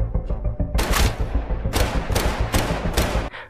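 A burst of gunfire: several sharp, loud shots in quick succession, cracking over a low rumbling background.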